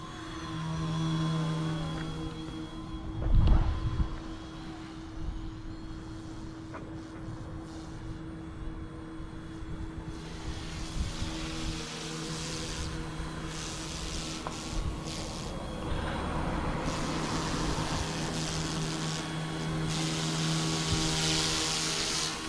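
A small Carmanon OH-58 helicopter flies steadily with a continuous rotor and engine drone mixed with wind noise, with a brief louder thump early on and a whirring tail rotor underneath throughout.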